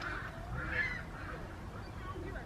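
Geese honk in a couple of brief, faint calls over a low outdoor rumble while ducks and seagulls are being fed, sounding somewhat distant.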